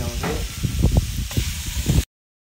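Vegetables including courgettes stirred on a Weber barbecue grill, a soft sizzle under repeated scraping and shuffling strokes, close and fairly loud for about two seconds before the sound cuts off.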